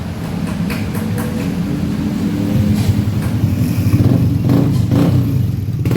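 A Yamaha Aerox scooter engine runs at a steady idle after a stator wiring conversion, a loud, close, continuous rumble with slight rises in the second half and no talking.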